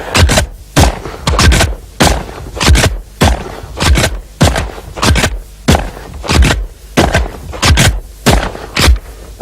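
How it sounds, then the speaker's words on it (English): A Benelli shotgun fires repeatedly outdoors at a clay target and at its own ejected cartridges, a regular series of loud, sharp blasts roughly every second, each with a brief echoing tail. "I'll shoot my last clay target."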